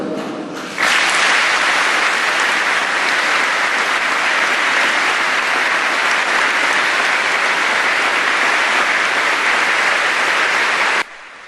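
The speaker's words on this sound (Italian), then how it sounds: "Questo applauso è tutto per te." A large crowd at a funeral in and around a cathedral applauds loudly and continuously, a dense, unbroken roar of clapping that starts abruptly and cuts off near the end.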